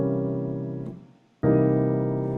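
A piano plays a flat nine chord, one sustained voicing that fades briefly into near silence before a second strike rings out fully, close and unaccompanied.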